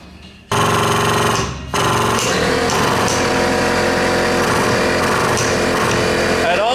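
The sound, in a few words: hydraulic foot pump operating a pipe bender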